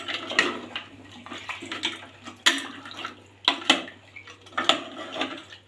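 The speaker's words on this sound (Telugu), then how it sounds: "ఈ విధంగా వాటర్ పోసి" Water poured over goat head meat pieces with garlic in a kitchen vessel, coming in repeated splashing bursts with clinks of the pot between, fairly close and without speech.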